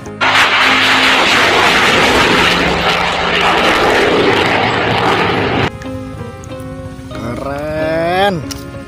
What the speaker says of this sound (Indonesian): ada pesawat tempur